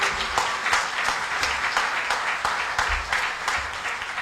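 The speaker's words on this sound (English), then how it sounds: "So let's give him a round of applause" A crowd gives a round of applause, many hands clapping steadily together for several seconds.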